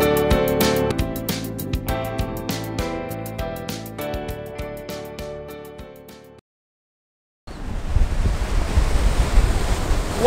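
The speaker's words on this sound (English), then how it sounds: "It's too windy" Strong seashore wind at Kanyakumari roars and buffets the microphone in a loud, rushing blast during the last few seconds, following a stretch of plucked music and a brief silence.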